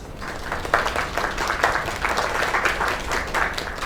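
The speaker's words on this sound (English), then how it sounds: "Another round of applause." A crowd applauds continuously in a small event scene in the video game Lake, dense steady clapping close and fairly loud for a few seconds without pause.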